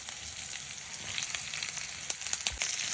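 Drumstick leaves sizzle and fry in a hot pan, a steady, bright crackle running without a break, with a few louder spits and pops near the end.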